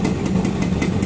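A Suzuki Satria motorcycle with an oversize 75 engine runs smoothly, giving a steady, even mid-pitched idle with a quick regular pulse, close and fairly loud, with no voices.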